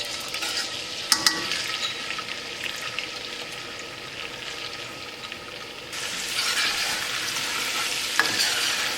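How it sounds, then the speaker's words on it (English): Ginger frying in homemade desi ghee while being stirred, a close, bright sizzle with a few sharp utensil knocks, the hiss swelling louder in the second half. "Cooking ginger for 1 minute."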